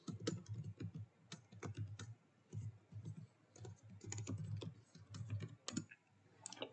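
Typing on a computer keyboard in Windows PowerShell, with soft, rapid key clicks in short uneven runs, quiet and close, with no talking.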